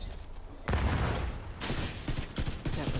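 Rapid bursts of gunfire in a video game are fired at a gate, heavy loud volleys cutting in and out in several clusters with short gaps between them.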